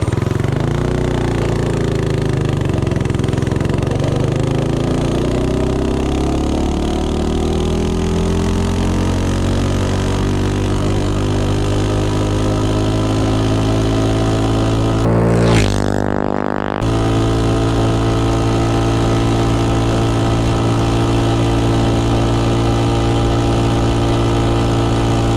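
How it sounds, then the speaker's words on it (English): A Predator 224 small engine fitted with a NIBBI carburetor runs flat out on a top speed run, a loud steady drone with rising then level pitch, briefly cut near the middle before resuming. "Top speed run, NIBBI carburetor."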